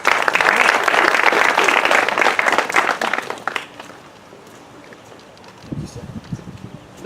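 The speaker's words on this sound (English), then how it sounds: "Let's give him a round of applause." A crowd at a Monterey County 2020 Census launch gives loud, close applause for a speaker for about three and a half seconds, then it fades into quiet room noise before a voice begins speaking.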